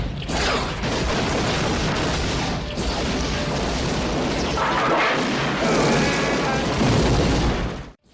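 A movie super gun with an X-ray scope fires a high-speed wave blast that explodes on impact, a dense roaring burst of noise sustained for several seconds before cutting off abruptly.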